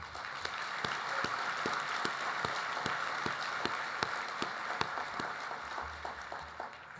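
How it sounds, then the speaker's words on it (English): Audience at the 2022 Urban League banquet applauding the staff, a steady wash of many hands clapping throughout, fairly distant and unbroken, with no talk over it. "We want to acknowledge and definitely clap hands for this great staff"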